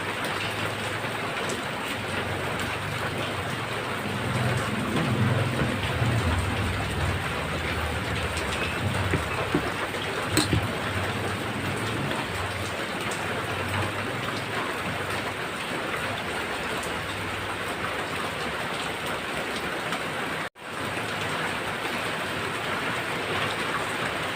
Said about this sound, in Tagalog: tamang-tama ng ulan